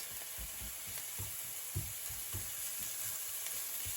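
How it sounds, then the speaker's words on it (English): Mushrooms and onions cooking in garlic butter on low heat make a steady, soft sizzle with occasional light stirring scrapes, close and even, with no talking. "I'm going to give these maybe another 2 to 3 minutes just to cook here on very low heat"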